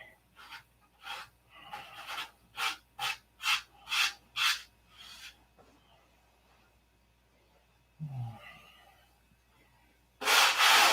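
Sanding a canopy finish molding by hand: a series of about ten rhythmic rasping strokes, close and fairly loud, then a pause, a brief scrape and a final burst of abrasive rubbing.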